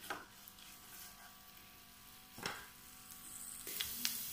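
Ginger sautés quietly in a pan with a faint, soft sizzle, joined by a few light utensil taps and a brief louder scrape near the end.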